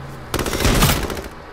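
Gunfire from a shotgun in the H1Z1 battle royale video game, a loud burst of blasts packed into about a second, with no talk over it.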